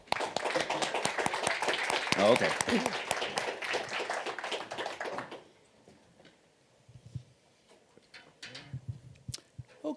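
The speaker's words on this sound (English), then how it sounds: "Big round of applause for Ian, please." Audience applause in a room at an evening talk, a few seconds of brisk, close clapping from many hands that ends abruptly, leaving quiet shuffling and a brief spoken remark.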